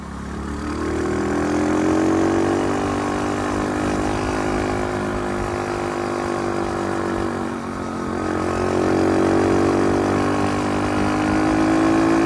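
Dirt bike engine on a mountain ride in West Virginia, a loud, steady throbbing drone that swells and dips slightly as the throttle changes, with no talking.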